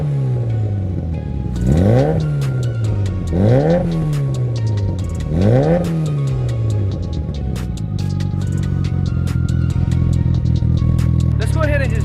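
Mitsubishi Lancer Evolution 8 fitted with a test pipe, idling then revved three times in quick succession, each rev rising and falling, followed by a steady rough idle close by, with someone talking over it.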